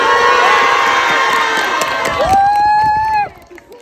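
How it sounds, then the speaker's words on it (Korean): A group of college students on a retreat cheer loudly as a crowd, with shouts and whoops filling the air, then the cheering fades near the end while a rising whistle-like tone sounds. "장기자랑을 시작하기 전에 질서는 물론 환호와 박수는 기본이겠죠?"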